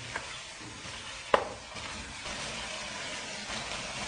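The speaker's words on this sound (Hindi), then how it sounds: "अब चिकन को भी भूनना है।" Half a kilo of boneless chicken sizzles softly and steadily while frying in a handi pot, with one sharp utensil clink partway through.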